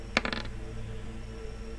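A quick clatter of dice tumbling onto a table, a few sharp knocks in under half a second, then quiet.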